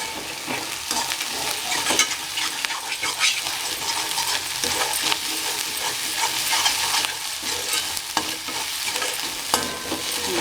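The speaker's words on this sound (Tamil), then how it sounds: "நல்லா அந்த இஞ்சி பூண்டு பச்சை ஸ்மெல் போகிற வரைக்கும் நல்லா வதக்கிக்கோங்க" Ginger and garlic sauté in oil in a kadai over low flame, a continuous loud sizzle broken by the scrape and clink of a spoon stirring throughout.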